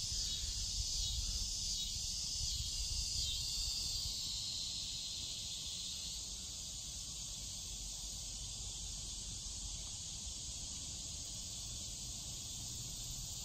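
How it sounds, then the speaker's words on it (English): Katydids or cicadas chirr in a butterfly garden in Bella Vista, Arkansas, in late August after a rainy season. The high, continuous drone stays steady throughout and is slightly louder during the first half, with no talking over it. "Katydids, or cicadas in the background"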